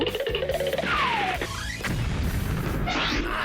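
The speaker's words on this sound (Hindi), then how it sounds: "धमाका होने वाला है।" A loud explosion with a crashing boom and rumbling debris, followed by sustained roaring noise and falling rubble.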